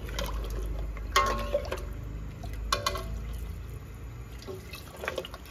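Water is poured into a cooking pot for mutton nihari gravy, a steady liquid splash with a few louder drips and trickles heard close by.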